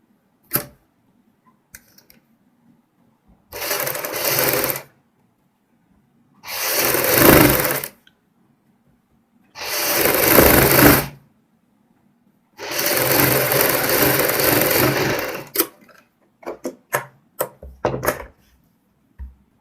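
An electric sewing machine runs a line of stitching along a kurti's half-ban neck band, sounding as four or five loud whirring bursts of two or three seconds each, separated by quiet pauses, with no talking.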